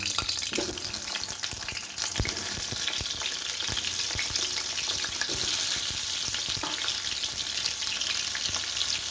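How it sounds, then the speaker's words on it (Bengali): Pointed gourd pieces fry in hot oil in a wok with a loud, continuous crackling sizzle, broken by occasional pops and spatters; no one talks. "এবার আমি এর মধ্যে পটলগুলো আস্তে আস্তে ছেড়ে দেবো"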